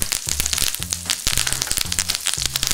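Butter with fresh thyme leaves sizzles and pops in a hot pan, steady frying hiss broken by frequent sharp crackles and bursts, close and alone.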